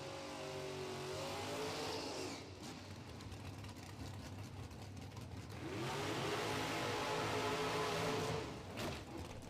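Drag racing cars, including a Chevy II, roar down the strip at Maryland International Raceway, loud engine bursts rising and fading twice as they accelerate.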